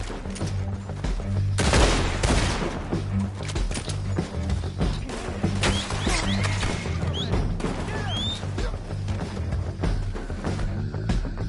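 Gunshots ring out in a Red Dead Redemption 2 bounty-hunting shootout, with rapid sharp cracks and fusillades piling up continuously amid clattering impacts, while game characters shout intermittently underneath the firefight.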